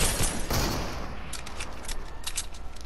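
Gunfire in a first-person shooter video game, a couple of sharp loud shots opening the moment, followed by a quicker run of lighter, rapid reports.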